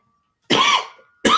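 Two coughs from a man who is under the weather, a loud, close, harsh burst followed after a short pause by the start of another.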